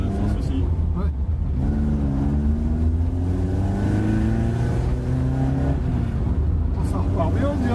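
A Peugeot 205 sleeper car accelerates hard, its engine rising through steady rumbling revs heard loud and close throughout, with a voice talking briefly over it.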